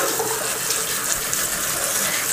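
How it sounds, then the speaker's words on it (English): Cool tap water pours over cooked thin spaghetti in a kitchen, a loud, steady, close rushing hiss that lasts without a break. "Give it a little rinse with cool water to stop it from cooking."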